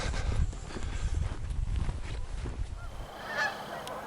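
A flock of geese congregated at the rapids of a wilderness park call with scattered distant honks over a rushing, rumbling background of water, moderately faint.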